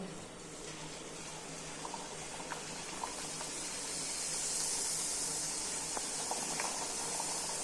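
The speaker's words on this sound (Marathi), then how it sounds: "आपण ह्या गरम तेल झालं का गरम तेलामध्ये सोडून तळून घेऊयात" Spicy puris deep-frying in hot oil, giving a steady bubbling hiss that grows slightly louder, with a few faint clicks and no speech.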